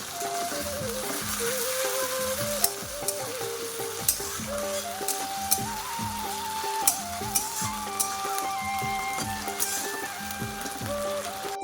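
Ginger, garlic and onion paste sizzles and crackles steadily in a hot pan as a home-style chicken curry is cooked. The frying hiss runs throughout under melodic background music, with a few sharp clinks.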